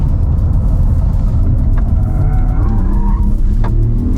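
A 2024 all-electric Porsche Macan with 612 horsepower, about 2.2 to 2.3 tons and a rear motor behind the rear axle, slides its tail through a long right-hand corner with loud, continuous tire and road roar and rising squeals, close by.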